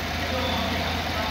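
A Chevrolet Tahoe engine idles steadily during an injector cleaning, a constant low rumble that stays close and unchanged throughout, with talk over it.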